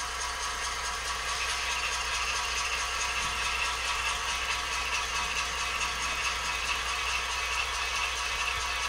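A low-speed Atlas HO scale Fairbanks Morse model locomotive with a 5-pole skewed armature motor gives a steady, faint mechanical whir with light ratcheting gear clatter, continuous and unbroken with no voices.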